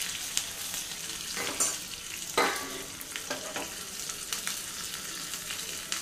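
Dried red chillies sizzle and crackle in hot tempering oil with curry leaves for a buttermilk stew, a steady frying hiss broken by sharp pops and stirring scrapes, close and clear with no talking.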